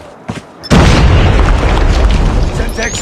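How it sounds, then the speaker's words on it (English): A predator missile in Call of Duty Mobile strikes with a sudden, massive boom that becomes a loud, rumbling roar lasting several seconds. Brief game sounds come just before the blast. "Predator missile inbound."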